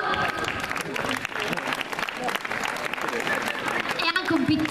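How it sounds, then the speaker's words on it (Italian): An audience at an outdoor concert in Talamello applauds after a song, the clapping dense and continuous with voices and a few tonal sounds mixed in, rising again near the end. "Un grossissimo applauso."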